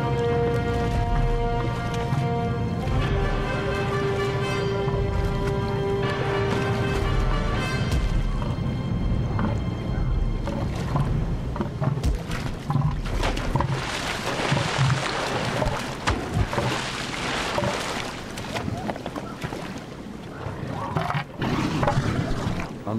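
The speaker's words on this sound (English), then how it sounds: "we begin with a battle between two bull elephant seals" Two huge bull elephant seals battling over mating rights, with deep guttural roars and bellows, heavy thrashing and splashing, loud and close throughout a long stretch of back-and-forth fighting, no speech.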